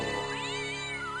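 A cat meows in the Broken Sword adventure game, one drawn-out, wavering, pitch-bending cry lasting over a second, fairly loud and alone with a faint steady background.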